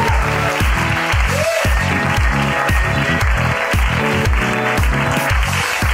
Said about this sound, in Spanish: Vamos a recibir con un fortísimo aplauso a Iggy Rubín